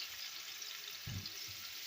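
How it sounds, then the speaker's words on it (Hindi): Chopped onion frying in oil in a wok gives a faint, steady sizzle, with a couple of soft low thumps of stirring partway through and no voices. "2 से 3 मिनट तक इस प्याज को फ्राई करूँगी"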